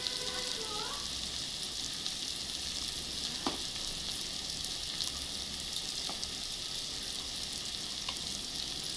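Ground chilli, turmeric, cumin, coriander and salt sizzle steadily in a hot pan for crab curry, a continuous frying hiss with a few faint clicks from stirring.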